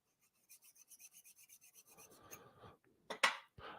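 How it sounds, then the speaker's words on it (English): Woodturning skew chisel honed by hand, a quick run of about ten even rasping strokes, then a looser scraping rub and a couple of sharper scrapes near the end, close and quiet with no talk. "Hone the two faces or two edges or bevels."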